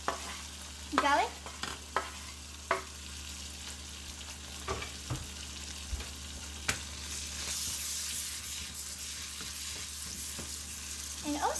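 Pepper and garlic stir-frying for noodles: a few sharp utensil clanks and scrapes early on, then a steady, close hiss of sizzling oil that grows louder toward the end, with no talking.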